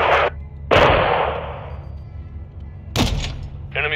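Gunfire in the video game Call of Duty Modern Warfare 2: loud, close shots in separate bursts, each followed by a long decaying boom, with a few more sharp reports near the end.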